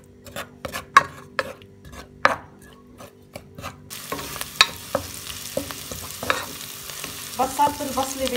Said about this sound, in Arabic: بقلل البصلة شوي على الغاز